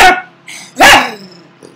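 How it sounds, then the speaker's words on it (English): A dog barks loudly and close by, giving two sharp barks with a short yelp between them and a faint trailing sound at the end. "I hope you can hear me over the tree being chopped and that dog."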